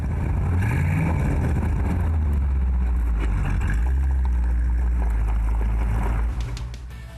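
A 1950s Ford Thunderbird with a 4.8-liter V8 and automatic transmission rumbles deeply and revs, its engine note rising and swelling loudly and close before easing off near the end, with no talk.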